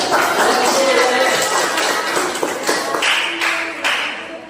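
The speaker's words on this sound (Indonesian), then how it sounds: "Ya, kasih tepuk tangan dulu." A classroom of students clapping together, a dense, steady patter of many hands close by, with children's voices chattering over it.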